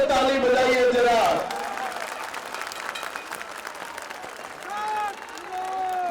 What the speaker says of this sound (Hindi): आपके लोकप्रिय प्रत्याशी श्री रमेश विदुड़ी जी के लिए जोर से ताली बजाइए जरा